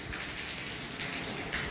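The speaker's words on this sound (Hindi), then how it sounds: "बहुत ही तेज़ बारिश आ गई है जी।" Heavy rain falls steadily, a dense, even hiss close by with no gaps.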